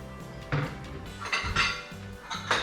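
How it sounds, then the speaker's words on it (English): Metal spoon scraping and clinking against a vegetable and bowl while scooping out seeds for a cauliflower-crust chicken pot pie, several short scrapes and clinks close up, with no talking. "We'll get ourselves a spoon, and we'll scoop this out."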